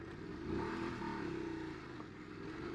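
A Voge DS900X adventure motorcycle pulls away on an off-road track with a rising engine note as the rear wheel spins, a sustained mid-distance roar with some gravel clatter.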